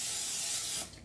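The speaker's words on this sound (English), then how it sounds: "now I'm going to spray the bottom of this" Oil spray hisses steadily into the bottom of an air fryer basket, one loud close burst lasting under a second that cuts off, with no talking.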